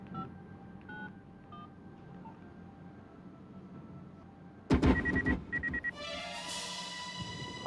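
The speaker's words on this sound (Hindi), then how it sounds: "एमटीएनएल से जो नंबर मिला है वो लगा।" Telephone number being dialled on an MTNL line: a few faint touch-tone beeps at first, then after a loud clatter a rapid run of louder DTMF tones, followed by ringing electronic tones.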